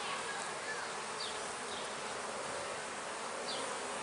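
Steady, dense buzzing of many honey bees close by at an open beehive, a continuous drone with no talking.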